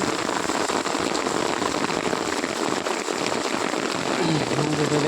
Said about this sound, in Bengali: সপাক সপাক জল পড়ছে সাথে